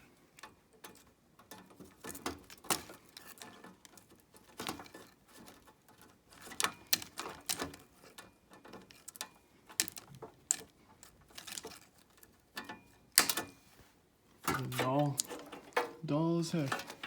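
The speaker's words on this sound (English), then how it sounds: "I'm just going to cut them off" Copper wires are being cut off a scrapped Tim Hortons coffee machine, giving a run of sharp, close snips, clicks and metallic taps at an uneven pace, and then a voice talking at the end.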